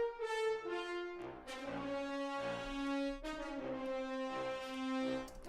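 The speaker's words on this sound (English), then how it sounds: "So I'm going to do the brass section first." A brass section track playing back in an orchestral mix: a slow sequence of rich, sustained brass chords that swell and change in steady succession, loud and close with no talking.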